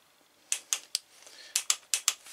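A torque wrench set to 12 tightens a bolt on a BMW R1200RT engine, giving two quick runs of sharp ratcheting clicks, close and crisp, with a short pause between.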